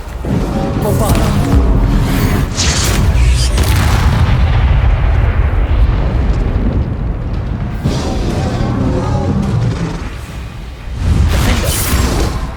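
Magical Bombarda spell blasts in the video game Hogwarts Legacy: heavy booming explosions with whooshing bursts, loud and close, repeating through a fight, with a voice calling out over them.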